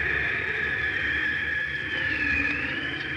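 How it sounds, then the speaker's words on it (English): Steady rushing wind noise from a car driving at about 30 miles per hour, a continuous broad hiss with a constant level, heard alone as an old-time radio sound effect. "That's the artificial wind your car creates when you're driving around 30 miles an hour."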